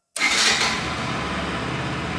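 A Pulsar 200 FI fuel-injected motorcycle engine fires up abruptly after silence, a burst of noise settling into a steady idle, close and fairly loud.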